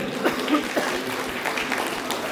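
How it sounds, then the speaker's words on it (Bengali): Audience applause at the Anuranan 2024 cultural programme, a steady wash of clapping from many hands that holds at an even level for a couple of seconds. "একটু জোরে হাততালি হোক"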